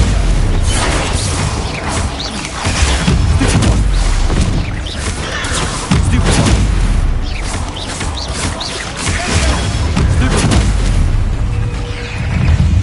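Spell blasts in Hogwarts Legacy, a Harry Potter game: loud booming explosions and crashing impacts follow one another almost continuously, dense and rumbling throughout with no pauses.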